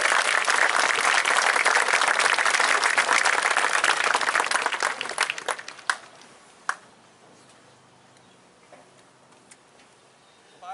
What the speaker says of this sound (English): Please give them a nice round of applause.